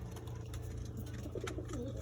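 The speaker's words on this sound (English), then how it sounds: "Young birds." Young birds in a backyard coop give soft, low cooing calls, a few short phrases standing alone over a steady background hum, fairly close.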